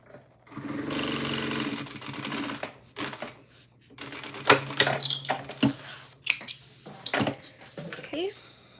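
A sewing machine top stitching a tote bag, its motor whirring in a sustained run, then stopping and starting in short bursts mixed with clunks and handling knocks.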